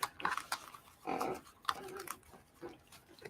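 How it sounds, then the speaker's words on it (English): A dog snarls and growls in rough, uneven bursts a few times, fairly close, with quiet gaps between outbursts and no talking. "dealing with that goddamn dog"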